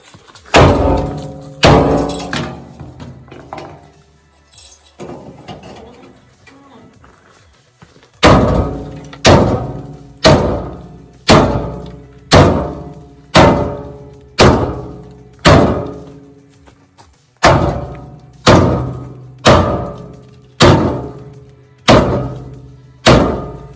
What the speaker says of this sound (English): when I take the sledgehammer and I hit this step, there's so much bounce